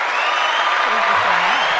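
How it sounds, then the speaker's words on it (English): Applause welcomes a mayoral candidate guest on a podcast, a steady wash of clapping that runs the whole time while a voice speaks over it partway through. "Let me give you a round of applause."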